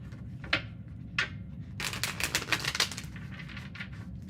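Tarot cards are shuffled in a final pass, with two quick riffles followed by a dense burst of flicking and snapping, close and fairly quiet over a low background hum.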